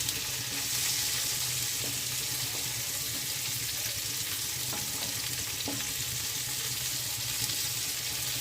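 Giant freshwater prawns fry in a pan with a steady, dense sizzle that fills the whole stretch, with a few faint clicks of a utensil and no voices.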